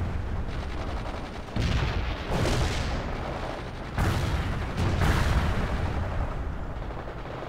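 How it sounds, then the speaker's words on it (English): Rifles and heavier guns fire in a World in Conflict battle, with dense, overlapping bursts and booming blasts that rumble continuously, loud and close, without speech. "Fire your rifles!"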